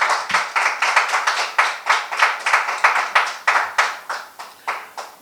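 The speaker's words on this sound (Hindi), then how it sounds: "एक बार तालियां बजा दीजिए।" A small audience at an inter-office quiz claps in a steady, even rhythm, close and clear with about two claps per second and no talking over it.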